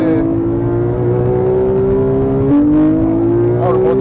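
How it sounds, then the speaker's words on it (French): A Corvette engine revving hard on a race track, a loud steady rising drone with a brief dip as it shifts gear, then climbing again, heard from inside the car. "Oh, le moteur. Oh là là, et puis cette réactivité."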